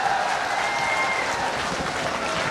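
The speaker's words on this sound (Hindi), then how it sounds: "आप जरा सारे लोग मिलकर जरा तालियां वालियां बजा दीजिए" An audience at a mushaira breaks into brisk, dense clapping that holds steady and close throughout.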